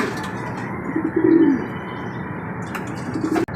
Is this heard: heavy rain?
no